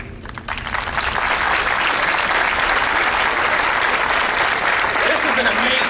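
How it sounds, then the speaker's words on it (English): A large crowd at a US Marine Corps graduation claps and cheers loudly and continuously, a dense wash of applause that swells in the first second and then holds steady. "This is an amazing crowd."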